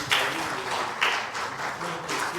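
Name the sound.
audience applause for a panel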